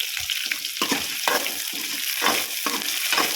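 Bitter gourd sautés in hot oil with coarse salt, a steady close sizzle under repeated scraping stirs of a spatula in the pan, with no voices.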